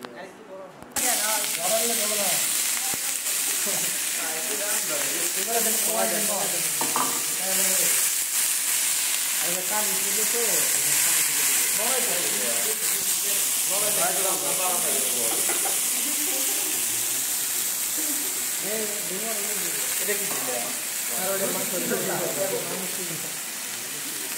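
Hot oil sizzles and crackles steadily while chicken keema filling for buns is cooked, a loud, continuous fry that runs almost the whole time beneath a person talking.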